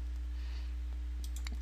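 A few light, quick computer mouse clicks in statistics software, faint and close over a steady low hum, with no talk.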